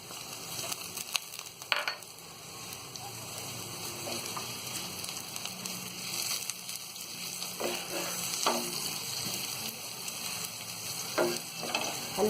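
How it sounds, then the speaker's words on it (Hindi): Chili and turmeric powder sizzling in a pan while cooking dry potato sabji, a steady low hiss with occasional louder spatters and stirring scrapes, close by with no one talking. "इसे हल्का सा फ्राई कर लेंगे"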